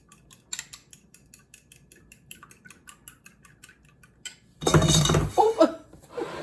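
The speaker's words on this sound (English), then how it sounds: "Let's beat this egg." An extra-large egg whisked in a bowl for banana bread: a fast run of light metallic clinks and taps against the bowl, steady and close, then a louder burst of clatter and laughter near the end.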